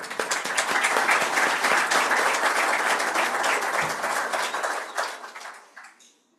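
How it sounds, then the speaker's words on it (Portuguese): Audience applause welcoming a professor to a lecture on tax reform, brisk close clapping from many hands that stays full for about five seconds and then tapers off into quiet. "Uma salva de palmas."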